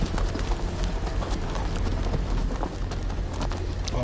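Horse hooves clip-clop in the Game of Thrones video game, a continuous busy patter of steps under dense, rainy-sounding ambient noise, moderately loud and steady throughout.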